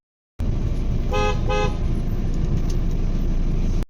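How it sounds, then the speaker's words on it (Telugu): A car horn beeps twice in quick short toots over a loud, steady engine and road rumble heard from inside the vehicle, with no talking. "అందుకని చెప్పి హార్న్ కొట్టాను"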